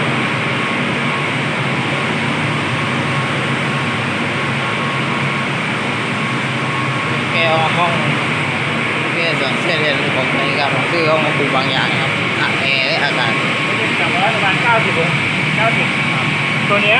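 A chiller plant water pump runs with a loud, steady mechanical drone and hum, close by and unbroken, while someone talks over it in the later part.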